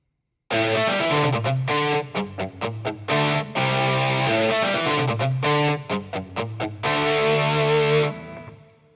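A distorted virtual electric guitar tone from RealRick 6's built-in distortion effect plays a choppy riff of sustained and stabbed notes, heavily saturated and buzzy, then cuts off abruptly.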